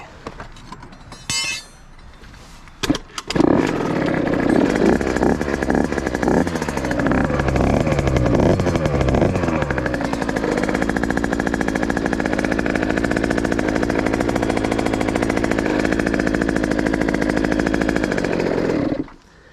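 A 2021 GasGas MC50 dirt bike is kicked over with a few clattering tries, then its small two-stroke engine catches and runs loud and close, sputtering and revving before settling into a steady buzzing idle until it cuts off.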